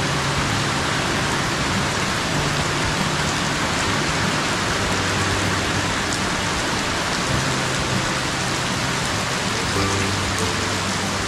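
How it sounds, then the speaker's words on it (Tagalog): Heavy rain comes down hard and keeps up a loud, dense, steady hiss and patter on surfaces close by for the whole stretch, with no voices over it. "lumakas na nga yung ulan"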